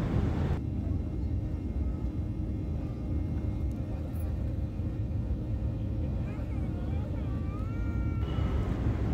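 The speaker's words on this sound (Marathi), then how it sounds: "रणवीर हळूहळू विमान वेग घेत आहे" An airliner accelerates down the runway for takeoff, a steady loud rumble of engine and cabin noise with a faint rising whine toward the end, heard from inside the cabin.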